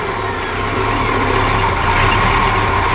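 A 1975 Silverline boat's Mercruiser 302 Chevy V8 idles steadily and loudly after starting, a constant rumbling drone with no talk.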